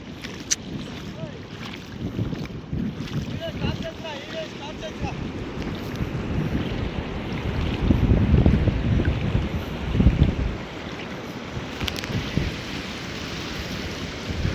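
Strong storm wind roars over rough sea water, gusting louder around the middle, with waves churning and buffeting throughout.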